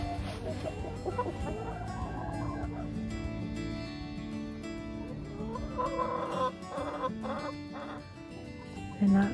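Backyard chickens on a homestead during a winter cold snap, clucking and murmuring in a steady mix of soft calls with a few louder bursts toward the end, fairly close and with no talking.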